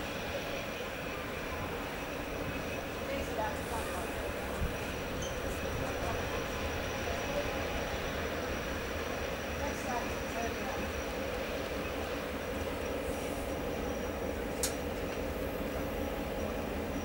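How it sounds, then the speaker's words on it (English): Steady rumbling drone of a train idling at a platform of Leppington station, where it terminates, continuous and fairly loud, with faint squeals and distant background activity. "The train on platform 3 terminates here."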